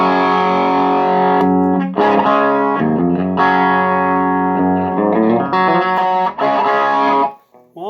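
An electric guitar driven through a Wampler Clarksdale overdrive pedal rings out with loud, sustained distorted chords and notes, several separate strummed phrases with brief gaps between them, close and alone.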